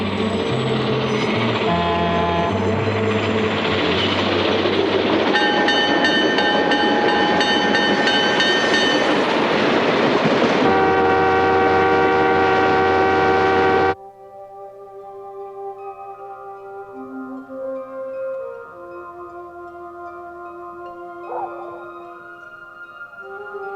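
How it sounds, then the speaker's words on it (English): A westbound freight train hauling 65 cars of elemental sulfur and 10 propane tankers in central British Columbia rumbles loudly with sustained tonal wheel and horn-like drones, then drops to a quieter, distant rolling hum with scattered squeals. "The engines are pulling 65 cars of elemental sulfur and 10 propane tankers"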